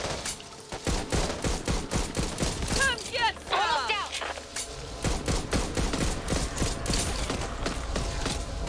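Heavy gunfire in the zombie shooter Back 4 Blood, rapid overlapping shots and bursts from several weapons crackling continuously, with voices calling out and shouting between the shots.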